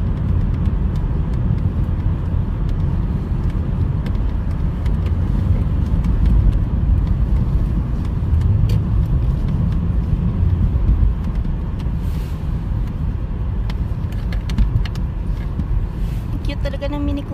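Steady roar of road traffic heard from inside a moving vehicle in extreme cold weather, a continuous low rumble with wind noise throughout, close and fairly loud.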